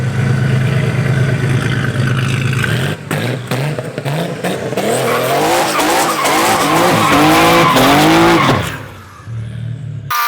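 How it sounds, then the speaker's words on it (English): A Porsche 965 Turbo RWB revs hard and its tires squeal loudly and continuously through a long burnout, the engine roaring close by before it cuts off. "Ready for burnouts? If it'll do them, we'll see."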